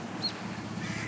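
A mother duck at a pond gives a brief single quack among low background sounds, fairly close and with no one talking.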